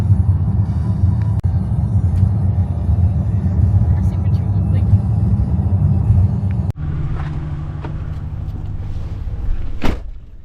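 A car drives along the road on the way to church, its steady low rumble filling the cabin, with a brief thump midway and a sharp knock near the end.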